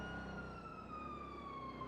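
A steady wailing police siren in GTA V holds a high tone that slowly drifts downward, loud and continuous with nothing else over it.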